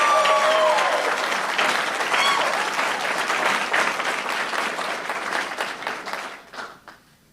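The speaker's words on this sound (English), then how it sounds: "Join me in giving him a round of applause as he comes forward." Applause at a police academy graduation ceremony fills a hall, dense sustained clapping from a large audience that holds steady for several seconds and then tapers off to quiet, with a faint voice at the start.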